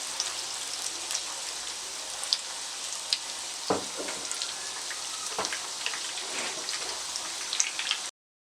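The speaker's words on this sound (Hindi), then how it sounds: "तेज़ आंच पर आप इनको फ्राई करें और इनमें चम्मच ना चलाएं, बल्कि इस तरह से इनको हिला लें" Chickpea koftas deep-fry in oil over high heat, giving a dense, even crackling hiss like heavy rain, with a couple of louder surges as the pan is shaken, then stopping abruptly.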